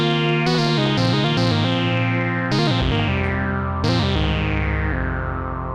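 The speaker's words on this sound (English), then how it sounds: "I've used these synthesizers.com modules to kind of build out a Mini Moog clone" A three-oscillator Mini Moog clone in VCV Rack, built from synthesizers.com-style modules with detuned oscillators: a rich, buzzy synth playing a short melodic line of distinct notes, ending with a long decaying tone.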